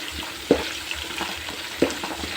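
Curry leaves fry in hot oil with a steady sizzle close up, broken by two sharp stirring scrapes about a second apart.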